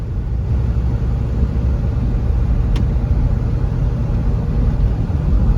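Third-generation Toyota 4Runner engine driving in third gear, a steady low rumbling drone heard from inside the vehicle, even in level, with no talk.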